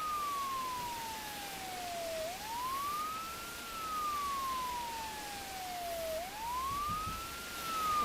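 Wailing fire truck siren from a firefighter video game, a single continuous tone sweeping slowly down and back up in two long cycles, steady and fairly loud with no talk over it.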